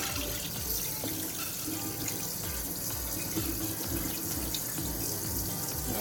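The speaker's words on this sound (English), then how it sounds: "Second wash, and then we pour the water away" Rice-washing water being poured from a pot into a kitchen sink after the second rinse for jollof rice, a steady, close splashing gush running without a break and no talking.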